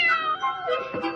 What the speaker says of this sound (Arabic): تعالي إلى هنا أيتها القطة